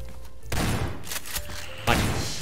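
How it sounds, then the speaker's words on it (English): Video game gunfire: two sharp bursts of shots, a short volley and then a second crack, standing out over a murmuring game background with no speech. "I'm just hearing distant gunshots and you're just killing everything."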